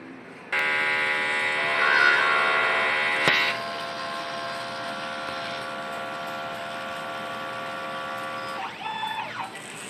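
A large-format Honjet printer runs its head clean cycle: a steady mechanical hum with layered buzzing tones, a brief louder swell near the start, a sharp click partway through, then a rising and falling whine near the end, close and continuous.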